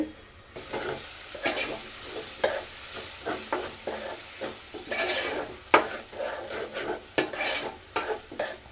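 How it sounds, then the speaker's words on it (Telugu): Onions, ginger-garlic paste and tomatoes frying in a pan, a steady sizzle under repeated scraping and stirring strokes of a utensil against the pan, close and clear with no talk. "ఇది వేగుతూ ఉంటుంది"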